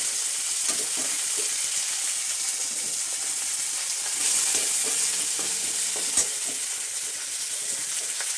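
Onion fries in a pan for a fish curry, a loud, dense hissing sizzle that holds steady throughout with faint stirring bumps, with no talking.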